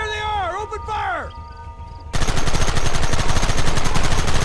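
Gunfire in Red Dead Redemption, a dense, continuous loud rattle of rapid shots filling the second half, after a brief stretch of dramatic tonal music and a shouted voice.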